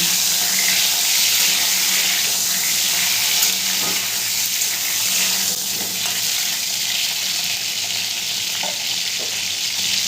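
Pieces of pointed gourd (potol) fry in a pan for doi potol, a steady close sizzle with faint stirring scrapes running throughout, no voices.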